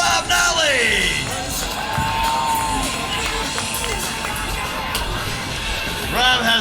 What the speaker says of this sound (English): how about a great big round of applause for Mr. Rob Nollie?